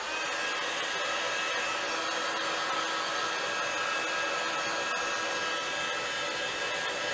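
A hair dryer blows continuously at close range over wet Brusho paint, giving a steady airy whoosh that never stops for the whole stretch, with no speech.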